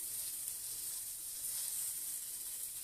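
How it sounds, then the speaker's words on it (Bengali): Potatoes and eggplant fry in hot oil with a steady, even sizzle that hisses without a break for a few seconds, with no voices. "আলু আর বেগুন ভাজা হয়ে গেছে"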